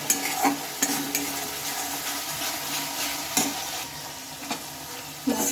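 Spice paste with turmeric and a little water sautés in a pan for besan potol, a continuous soft sizzle punctuated by several sharp spatula scrapes and stirs, with no speech.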